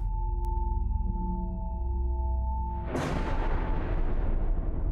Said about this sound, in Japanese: 雷？